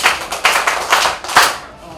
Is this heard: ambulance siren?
no